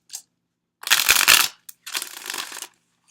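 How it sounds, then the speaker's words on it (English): Two quick bursts of tarot cards being riffle-shuffled, crisp and close, with a brief tap before and between them. "Let's do one more shuffle."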